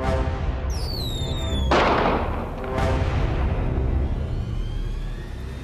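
Fireworks-like explosions in a Chinese fantasy drama, a whistling rise followed by a sharp loud burst and a second crackling blast over a continuous rumbling background.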